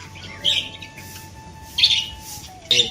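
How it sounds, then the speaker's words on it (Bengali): Pigeons at a home loft, including a young bird with a cold, give three short, high chirping calls spaced across a few seconds over a faint steady hum, with no talking. "মোটামুটি সব পায়রাই চলে এসে"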